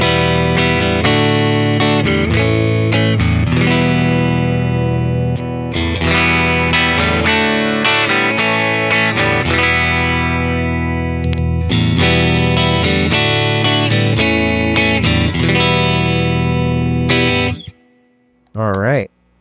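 Fender Jazzmaster electric guitar on its neck pickup, played as a continuous run of loud strummed chords and notes with effects for about seventeen seconds, then a short pause and a brief final note.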